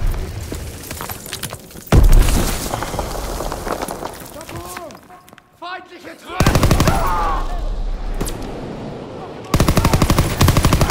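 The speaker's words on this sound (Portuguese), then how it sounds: "Lançando granada!" Rapid machine gun bursts and gunshots crackle through a Call of Duty: World at War firefight, loud and dense, with a grenade blast among them, while voices shout over the combat.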